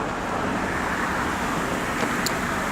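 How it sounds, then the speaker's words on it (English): Steady broadband road traffic rumble, cars passing continuously at a moderate distance with no voices, a constant wash of engine and tire noise throughout. "But listen to the sounds of the traffic, the pollution, the vibrations of, you know, the train on the railroad"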